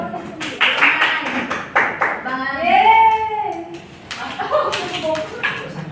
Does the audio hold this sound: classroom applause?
yes